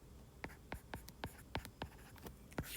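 Pen strokes scratch across paper during a math worked solution, about eight short quick marks in an uneven rhythm, close and quiet.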